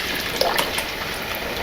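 Tomato juice poured into a pot of chili, giving a short liquid gush and splash of about a second, close and fairly loud, with no talking.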